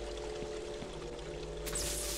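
Water pours in a flooded room in the video game EBOLA 2, a steady wash that swells louder and brighter near the end, with no one talking.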